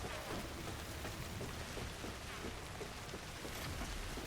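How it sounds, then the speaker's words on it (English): Steady, dense rainfall pours down in the Death Stranding video game, a continuous hiss of drops on surfaces with a low rumble that suggests distant thunder, with no voices over it. "Now, if this was just normal ass rain, I would love it."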